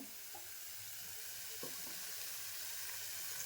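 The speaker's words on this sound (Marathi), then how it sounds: "आता मिक्सरच्या भांड्यामध्ये पाणी टाकते" Water is poured into a steel mixer jar in a home kitchen while a traditional Konkan-style amti (curry) is being made, giving a steady, close, continuous hissing rush with a few faint clinks and no talk.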